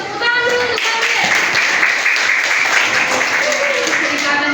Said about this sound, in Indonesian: Tepuk tangan dulu untuk Gabriel.